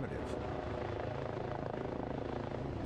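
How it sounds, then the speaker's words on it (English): Helicopter in the firefighting video game Incident Command, a loud steady rotor drone that fills the whole stretch, with talking over it. "There comes the helicopter again"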